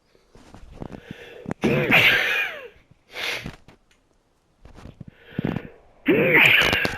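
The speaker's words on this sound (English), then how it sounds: "If you heard me sneeze, I'm very sorry you had to hear that." A person sneezes loudly and close up in several sharp, separate bursts with short quiet gaps between them, along with sniffing and throat sounds.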